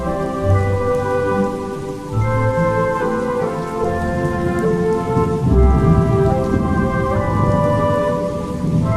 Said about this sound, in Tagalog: Ang kaniyang kulog ay dumadagundong.